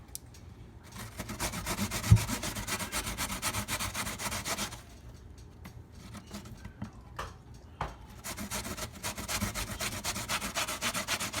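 Fresh coconut being grated by hand on a metal grater, close rhythmic scraping strokes in steady runs with a short slower stretch midway.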